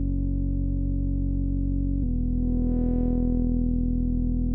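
A thick speed garage bass from Serum, run through an MG low 18 filter, drones loud and continuously, shifting tone midway as the filter opens into a brighter, buzzier growl.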